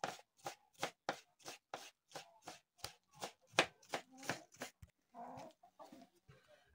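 Knife slicing through cabbage in a village kitchen: a quick run of crisp, regular crunching cuts, close and fairly faint, followed by a few slower, duller chops.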